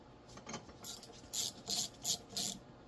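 A ratchet wrench clicks in short bursts while removing the four bolts on a small-block Chevy oil pump: about five close, distinct clicking runs in a steady rhythm, with no talk.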